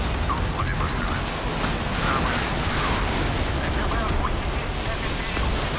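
Naval cannon and missile fire from a battle in the Modern Warships video game makes a dense, steady barrage of booms and rumble that runs the whole time, with a voice talking over it.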